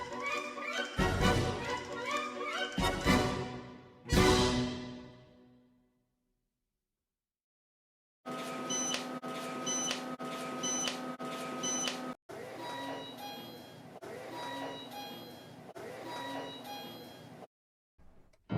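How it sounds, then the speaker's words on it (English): A Kone elevator chime at a Macy's, several bright tonal chime sequences with a silent gap between them, replayed, fairly loud and close. "So I found some Macy's cone lift and its chime is totally the best one ever."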